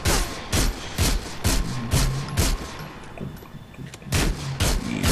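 Rapid bursts of gunfire in a Grand Theft Auto game, loud repeated volleys of shots with brief gaps between them, close and dominant, no talking.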